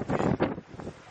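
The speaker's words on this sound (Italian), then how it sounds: "Ora che è appena passato una ventata micidiale" A strong gust of wind on a mountain hike near volcanic ground buffets the microphone in two or three brief, rough roaring bursts that fade quickly.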